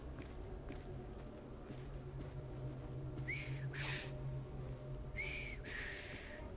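A person whistles in short rising bursts, several brief tones spaced apart over steady low background noise and faint movement.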